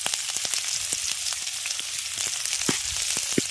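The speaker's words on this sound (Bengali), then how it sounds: "তুলে নেওয়ার পর ওই তেলের মধ্যেই দিয়ে দিচ্ছি কুচিয়ে রাখা পেঁয়াজ আর কাঁচা লঙ্কা।" Chopped onion and green chilli sizzle in hot oil, a steady broadband frying hiss with scattered pops and crackles throughout, close and fairly loud with no talking.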